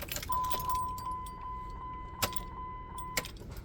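An ignition key is turned to the on position in a 3rd gen Ram truck, giving a close metallic jingle and a couple of sharp clicks, while a steady electronic chime rings on throughout.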